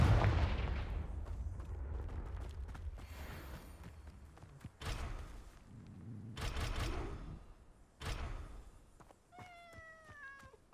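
Fiery Confringo spell blasts in Hogwarts Legacy: several loud booming bursts with crackling tails, spaced a few seconds apart, mixed with game effects and a brief creaky whine near the end.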